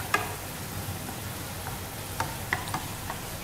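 Shallots sizzle in hot oil over medium heat while making Hanoi-style sticky rice with mung bean, a steady crackling hiss broken by a few sharp pops and spatters, close and moderately loud.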